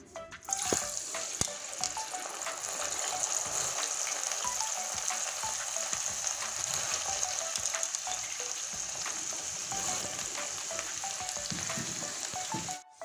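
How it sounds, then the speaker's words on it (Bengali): Pieces of chanachur dough fry in hot oil, a dense continuous crackling sizzle with small pops and bubbling heard up close and unbroken, no talking. "এবার এই কটা পুরোটাই এবার ঢেলে দিব তেলে"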